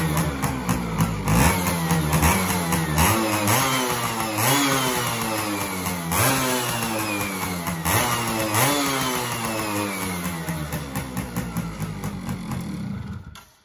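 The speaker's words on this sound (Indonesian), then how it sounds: "Double starter tidak bisa, aki nggak ada. Jadi kita selah pakai kaki." A Suzuki FIZ R motorcycle, kick-started because it has no battery, runs with a loud two-stroke buzz, revving up and down repeatedly in rising and falling sweeps, close by and alone.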